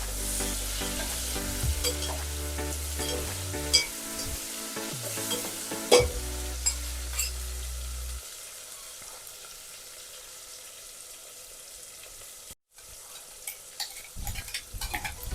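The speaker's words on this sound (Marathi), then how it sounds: "आपण याच्यात चॉप केलेला टमाटर टाकणार आहोत व मिश्रण चांगलं जे आहे ते हलवून घेणार आहोत" Chopped onions and tomato stirred in a hot pan for a Marathi-style chicken dum biryani, with steady sizzling and scraping strokes up close for the first half, then a quieter simmer before the stirring resumes briefly.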